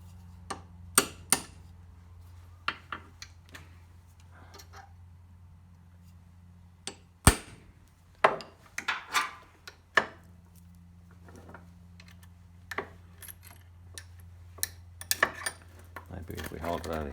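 Sharp metallic clinks and taps of a hammer on a quad bike chain, scattered irregularly, over a low steady hum with occasional quiet talk.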